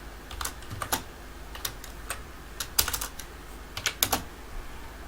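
Keystrokes on a computer keyboard while text is entered into a table in MS Word 2010, close and fairly loud, coming in quick irregular bursts of clicks with short pauses between them and no voice.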